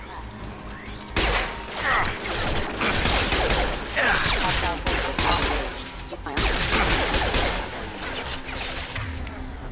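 Pistol shots ring out in a Mass Effect 2 firefight, loud and close, in repeated bursts with crashing impacts and mechanical clatter between them.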